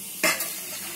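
Koi fish frying in a pan in a home kitchen: a sudden burst of sizzle as something hits or is stirred in the hot oil, then a softer steady crackle continuing close by.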